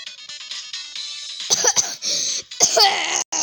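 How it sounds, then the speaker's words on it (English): A person coughs in several sharp bursts over game sounds and background noise while playing Roblox, loud and close to the microphone. "I hate my cough so much."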